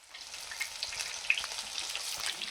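Chicken lollipops sizzle steadily in hot oil, a dense crackling frying sound with small pops, close and fairly quiet, no talking.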